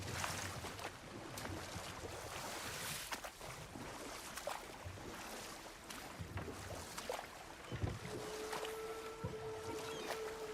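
Boat rowing across water in God of War Ragnarok, with steady splashy oar strokes and a continuous watery wash, moderately near and mostly alone.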